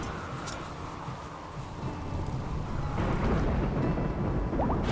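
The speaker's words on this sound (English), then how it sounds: "And I made it a rainy thunderstorm." Rainy thunderstorm in the video game RimWorld: steady rain hiss with low rumbling thunder swelling in the second half, continuous and moderately loud.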